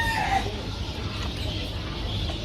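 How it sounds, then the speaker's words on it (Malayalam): Chickens cluck and a rooster crows at a farm housing fancy, native and broiler hens alongside ducks, the fowl noise steady and moderately close against a low background hum. "ഇത് മൊത്തം കോഴികളാണ്."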